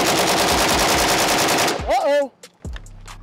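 Pioneer Arms 556 Sporter AK rifle in 5.56 fires a rapid, loud string of shots that runs nonstop for nearly two seconds and then breaks off. Voices follow, along with a few scattered clanks.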